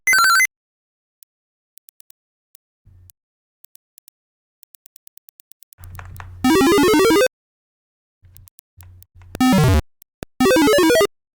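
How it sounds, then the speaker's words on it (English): The Megazook weapon in the game ZZT makes harsh, beeping electronic bursts of chirpy square-wave tones, loud and in several separate blasts, with faint ticks and low buzzes between them. "That was also a Megazook sound effect, wasn't it?"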